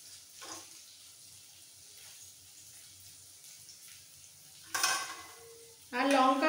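Dried red chilies and chopped onion drop into oil with fried garlic cloves, a quiet sizzle and stirring that bursts into louder crackling frying twice toward the end, without talk.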